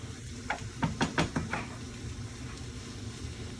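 Ingredients stirred into a sofrito for Cuban black beans, with a few quick spoon-and-pot knocks early on over a soft steady sizzle that continues alone afterward.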